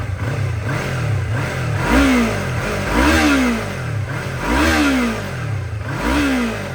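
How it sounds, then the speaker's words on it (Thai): A 2015 Yamaha MT-03 with 15,000 km on it revs close and loud, its twin engine blipping up and dropping back in about five rhythmic bursts over a steady idle, with no talking. "เดี๋ยวมาเร่งเครื่องให้"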